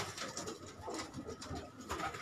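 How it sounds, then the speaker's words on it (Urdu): Pigeons on a rooftop loft in Karachi coo repeatedly in soft, rhythmic, overlapping calls, moderately close, with a steady outdoor hum and no clear talk. "اور بہترین قسم کے کبوتر ہیں جی ان کے پاس"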